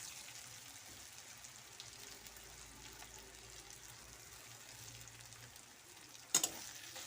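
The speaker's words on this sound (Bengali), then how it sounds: "পেঁয়াজের সাথে ভালো করে ভেজে নেব" Onions frying in oil with bay leaves, dried chillies and ginger-garlic paste give a faint, steady sizzle throughout, broken near the end by a brief utensil clatter.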